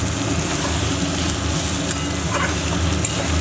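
Teasel gourd frying with shrimp and freshly added grated coconut being stirred in a pan, a steady close crackle and sizzle with soft scraping running continuously throughout.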